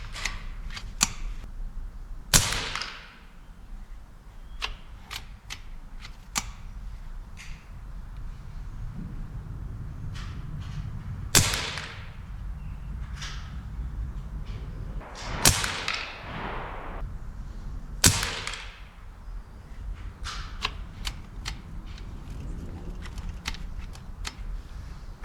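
Several sharp, snapping shots from a Reximex Throne Gen. 2 air rifle ring out at irregular intervals over a low background hum, each a brief crack with a short ring.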